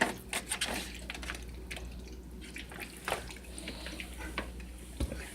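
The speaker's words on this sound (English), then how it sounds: "I take a little vinegar, I cover it in vinegar." Vinegar pours and drips over spare ribs being prepped for grilling, a faint trickling and splashing of liquid with soft intermittent drips, close by and quiet, without talk.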